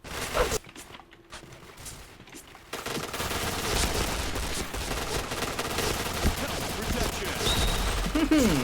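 Video game gunfire: after a brief quiet gap, a continuous loud stream of shots and rapid bursts runs dense to the end, with a voice talking over the combat.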